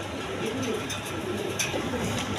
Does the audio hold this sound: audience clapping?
no